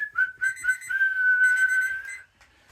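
At the end of a Bristol Ball match, a referee's whistle trills in a rapid series of short chirps, then holds one long steady blast before cutting off, loud and close with no voices over it.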